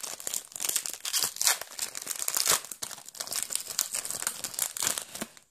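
Korean Pokémon card booster pack being torn open, with loud continuous crinkling and crackling of foil wrapper right up close, broken by sharper tearing bursts.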